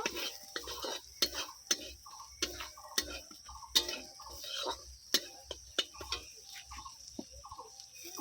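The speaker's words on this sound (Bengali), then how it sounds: "এবারে দিয়ে দেবো লঙ্কা গুঁড়ো হলুদ গুঁড়ো মশলাটা খুব ভালো করে একটু কষিয়ে নেব" Spice paste with chilli and turmeric powder being stirred in a pan, a steady series of sharp spoon scrapes and taps against the vessel over soft frying, close and fairly quiet with no talk.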